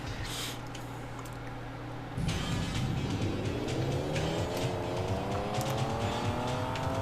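Sega arcade racing game car roaring as its engine revs climb steadily after a gear change, with tire squeal and skidding noises over a loud synthetic engine drone.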